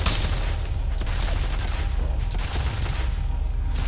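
Sustained automatic turret fire in the shooter game F.E.A.R., a dense, loud, continuous rattle of rapid shots with deep booming low end running the whole stretch without pause.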